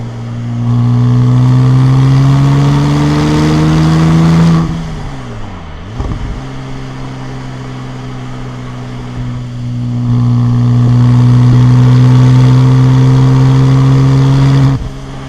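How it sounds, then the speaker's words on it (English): A Porsche 996 Turbo Cabriolet with a six-speed manual and upgraded exhaust pulls hard and loud, engine note climbing through a gear, then easing off on a shift before it surges again with a strong, smooth drone. "Love the way that upgraded exhaust sounds."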